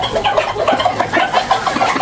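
Chickens, among them Sultan hens, cluck and chatter close by while pecking at bought insects on a farm, giving a busy, continuous run of short calls with no talk over them.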